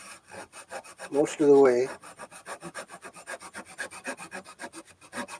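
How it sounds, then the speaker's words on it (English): A hand saw cuts lengthwise through a small wooden biscuit for a violin back graft, making a steady rhythmic rasp of close back-and-forth strokes, with a brief spoken phrase early on. "Basically cutting this biscuit in half, lengthwise"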